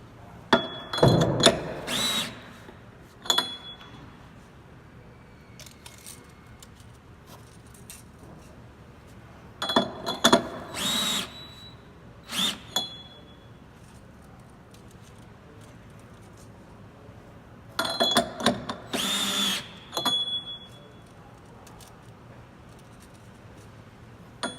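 A power tool whirs in three separate bursts while tightening a hex nut on a stay bolt against a spring guide, during a VRU filter insert change. Each burst is loud and close, with quieter clicks and handling noise in the pauses.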